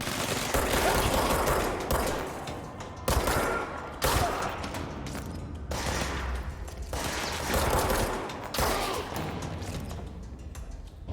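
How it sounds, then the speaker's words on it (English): Dense, loud gunfire from a firefight in the video game Control on PC, with bursts of rapid automatic shots that come in waves and stop in short breaks between them. "Where are they shooting from?"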